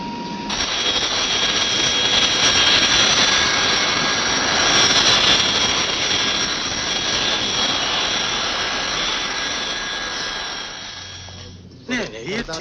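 A propeller airplane engine drones loud and steady close by after landing, with a strong tonal hum that holds almost the whole time before it cuts off abruptly near the end.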